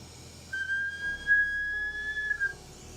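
A blown glass Christmas ornament gives a single steady, thin whistle lasting about two seconds, heard close up over a quiet background hum in a glassblowing studio.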